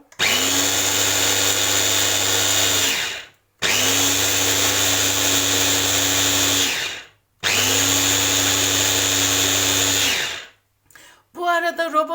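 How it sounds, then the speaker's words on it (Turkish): Electric grinder with a double blade chopping almonds and cashews into a paste, running in three loud, steady bursts of about three seconds each with short silent gaps between, then brief rattling at the end. "Sonra bu bademi, kaşuyu e, doğratacağım. Sonra macun haline getireceğim."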